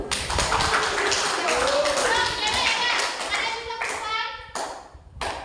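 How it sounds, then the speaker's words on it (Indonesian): Students in a classroom clap their hands together in a quick, rhythmic patterned clap, with crisp hand strikes mixed with children's voices and chanting over the top. "Tepuk tangan dulu"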